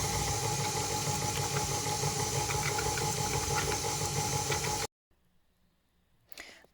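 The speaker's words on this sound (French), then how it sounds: "on va rebattre un petit peu, le temps que l'œuf s'intègre à la pâte, à vitesse douce cette fois." An electric mixer beats egg into cookie dough at low speed, a steady close whirring hum that runs for about five seconds then stops abruptly, followed by near silence and a faint brief rustle.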